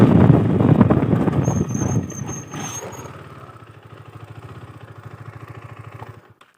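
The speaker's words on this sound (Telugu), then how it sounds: "సౌండ్ అయితే ఎగ్జాస్ట్ది మామూలుగా లేదు." A motorcycle exhaust in a park roars loudly at first, then settles into a steady, close, low throbbing idle before cutting off.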